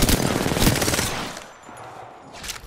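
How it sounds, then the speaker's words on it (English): Enemy gunfire in a first-person shooter video game, a loud close burst of rapid automatic shots that tapers off, followed by another short volley at the end. "The enemies are shooting at me."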